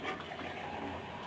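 Water is poured into a cooking pot of potatoes and minced meat for aloo qeema, a steady, soft splashing rush close by.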